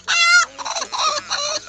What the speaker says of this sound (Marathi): ही नवीन कोंबडी आहे